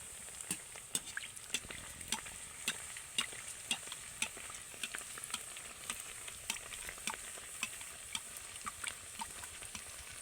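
A rice batter snack fries in hot oil with a constant soft sizzle. Regular sharp clicks and scrapes from a utensil against the pan punctuate it roughly every half second, close up.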